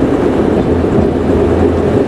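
Classic car with its smallest six-cylinder engine, hesitating off idle: a loud, close, steady low rumble with slight unevenness.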